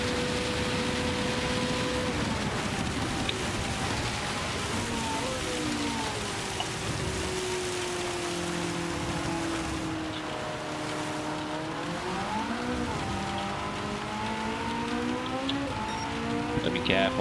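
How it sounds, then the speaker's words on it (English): Heavy rain during a wet Le Mans race in Gran Turismo 7 hisses steadily beneath a race car's engine, whose whine rises and falls through gear changes over the downpour. "it's absolutely bucketing down at the moment, Bobby."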